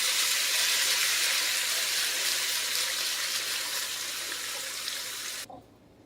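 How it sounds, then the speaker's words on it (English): Water pours steadily into a pot of braised chuck roast, a loud, constant rushing splash that holds for several seconds before cutting off abruptly near the end. "Now we're going to add water till it's covered, just over to the top."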